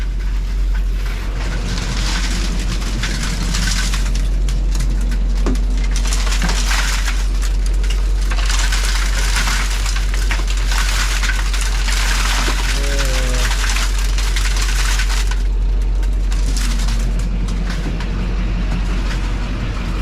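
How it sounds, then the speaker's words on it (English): A salt spreader's auger runs with a continuous loud grinding, crushing rumble over a heavy truck engine drone, steady throughout. "we'll turn the auger on as well"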